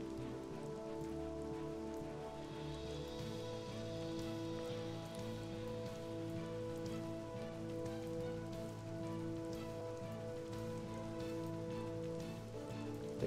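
Steady rain falls in the mobile RPG Another Eden, a continuous loud patter of drops on surfaces over looping game music, with no speech.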